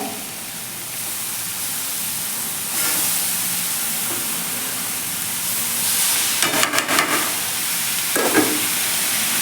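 Grated radish hits a hot pan and sizzles in a soft, steady hiss, with a few louder bursts of stirring and clatter near the end.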